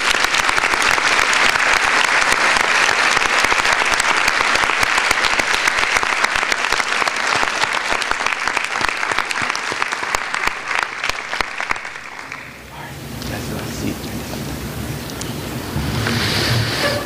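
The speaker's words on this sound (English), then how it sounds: "Let's give them a round of applause." School board meeting audience giving a round of applause, dense sustained clapping from many hands that fades out near the end into quieter room noise.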